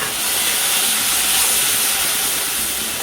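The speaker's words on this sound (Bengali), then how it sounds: "এখানে ভাত বসিয়ে দিয়েছি। এসেই এই ভাতটা ফুটে আসছে আস্তে আস্তে।" Rice boiling in a pot on the stove gives off a steady, loud, hissing steam rush that holds even for a few seconds without speech.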